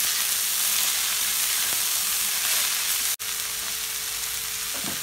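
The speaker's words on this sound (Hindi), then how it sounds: "इसमें खूब अच्छे से भुनाई करेंगे," Radish greens sauté in a pan for Indian mooli sabzi, giving a steady, close, dense sizzle and crackle throughout with a brief scrape of stirring near the end and no talk.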